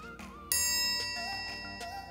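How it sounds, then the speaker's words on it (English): A bright metallic triangle ding rings out alone, sharp and sustained, with lingering overtones fading over a couple of seconds above a faint musical background. "some people think the triangle isn't that important of an instrument"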